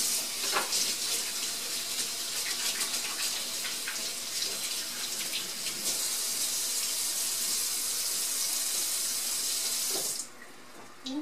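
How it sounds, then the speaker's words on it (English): A tap runs steadily into a sink for hand washing before cooking, a close, continuous splashing rush that stops abruptly near the end. "I'm going to wash my hands, and we're going to get started."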